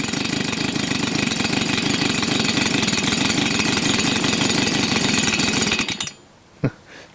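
A Stihl leaf blower with a fault that keeps it from staying running idles loudly and steadily with a fast, even engine rattle for about six seconds, then cuts out abruptly, leaving near-silence broken by one brief knock.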